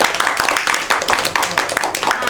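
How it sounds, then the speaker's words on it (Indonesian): Applause in a classroom during a geography microteaching lesson, a dense patter of many hands clapping steadily for about two seconds at moderate loudness, with talk mixed in. "beri tepuk tangan dulu dong buat Mas Dana."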